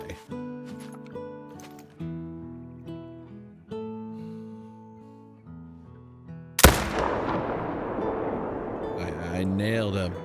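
A single loud rifle shot rings out partway through during a deer hunt in theHunter: Call of the Wild, cutting across light music and followed by a long decaying rumble.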